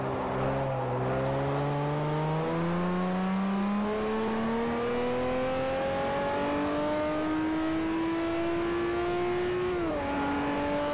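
F1 car in Forza Motorsport 4 with its engine note climbing steadily through a long, loud rev as it accelerates, a brief dip near the end as it shifts, then pulling on, with no voices.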